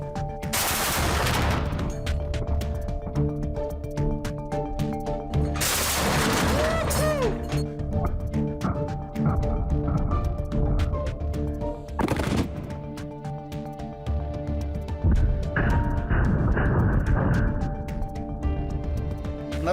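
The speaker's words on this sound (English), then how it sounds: "Я нажму на гашетку и проверю сейчас дуб на прочность." Several loud bursts of automatic gunfire are fired into an oak tree, each burst a rapid rattling series of sharp cracks, separated by short gaps with ringing and splintering.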